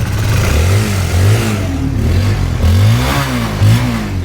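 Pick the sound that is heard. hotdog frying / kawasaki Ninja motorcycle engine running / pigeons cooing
kawasaki Ninja motorcycle engine running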